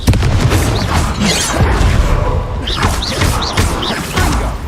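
Confringo fire-blast spell exploding in the Hogwarts Legacy video game, a loud booming blast within a dense, constant wash of battle noise, with sharp cracks and rumbles throughout and no clear break between them.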